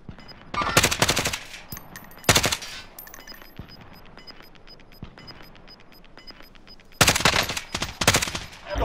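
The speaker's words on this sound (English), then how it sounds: "I'm hitting them with my AR quite a bit." Assault rifle fire in the Rebirth video game, coming in loud automatic bursts near the start, mid-clip and at the end, with quieter distant gunfire and game ambience filling the gaps.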